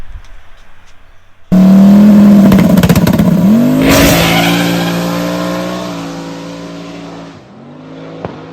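Turbo LS drag car on a shakedown pass launches from quiet with a sudden loud roar, revving hard up through the gears with tire noise, then fading as it pulls away.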